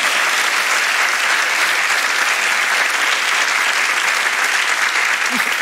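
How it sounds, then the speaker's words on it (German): Studio audience applauding steadily and loudly throughout at a German-language Austrian television talk show, dense and continuous with no speech over it. "Applaus"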